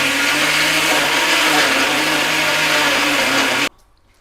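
A kitchen mixer grinder hums loudly and steadily while grinding batter for Kerala kozhukkatta, a dense whirring drone lasting several seconds before cutting off abruptly into near silence.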